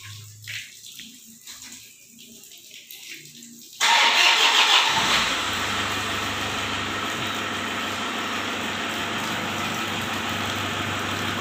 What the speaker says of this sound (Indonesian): Hidupin aja mesinnya.